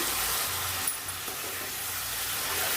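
Tomatoes frying in oil with ginger garlic paste and onions, a steady hissing sizzle with soft stirring scrapes, close and even throughout, no voices.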